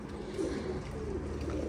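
Pet pigeons kept by a breeder coo softly in low, rolling calls, a few repeated murmuring phrases over a faint background hum.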